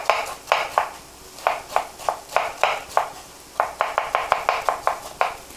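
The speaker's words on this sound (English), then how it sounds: "Make sure to cut along the pattern so you have this matchsticks." A knife cuts vegetables into julienne matchsticks for borscht, striking the board in sharp, close taps that come in small clusters with short gaps, then a faster run of strokes near the end.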